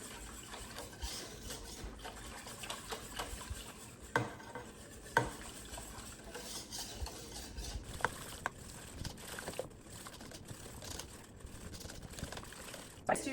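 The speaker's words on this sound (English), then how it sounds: "I'm just gonna slowly stir it in." Arrowroot starch being stirred slowly into a coconut aminos stir-fry sauce, soft scraping and swirling with a few sharper clicks of utensil against pot, fairly quiet and close.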